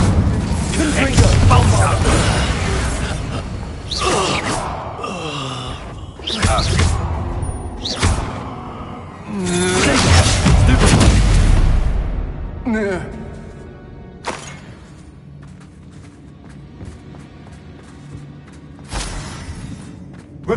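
Confringo blasting spells cast in Hogwarts Legacy, several loud booming bursts and whooshes spread across the stretch, with a voice speaking between them.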